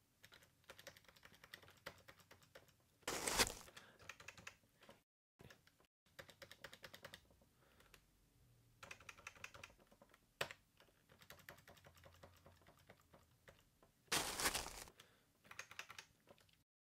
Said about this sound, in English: with Command's keyboard focus enabled, you can simply press the B key